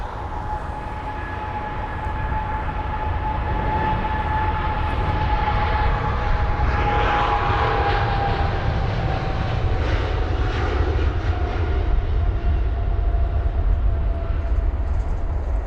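Airliners departing London Heathrow roar with a continuous loud jet-engine rumble at mid distance, holding steady for the whole stretch as an aircraft takes off, with no voices over it.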